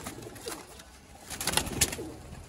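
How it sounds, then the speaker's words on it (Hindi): Sialkoti pigeons coo close by in soft, low throaty bursts, with a couple of sharper rustling taps among them as they move about. "ये दोस्तों कबूतर चलता फिरता आपकी आंखों के सामने है"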